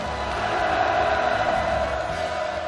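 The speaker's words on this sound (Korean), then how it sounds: "전체 참가자들이 터치는 우렁찬 환호성이 또다시 울려 퍼졌습니다" A crowd of participants at the opening ceremony of the Workers' Party of Korea Central Cadre School raises a loud, sustained cheer, a dense and steady roar of many voices that fills the whole stretch without a break.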